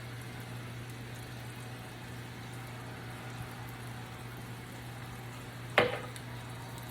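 Bacon green bean casserole mixture with seasoning cooks in a pan, a faint steady sizzle under a low hum, broken by one sharp scrape or clatter near the end.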